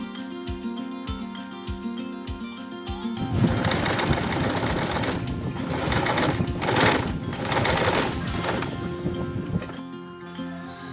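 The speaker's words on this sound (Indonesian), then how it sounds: "kemudian kita jahit" A sewing machine stitches patchwork pillowcase pieces made from fabric scraps, starting with a few slow thumps and then running into a fast, steady mechanical rattle, close and continuous.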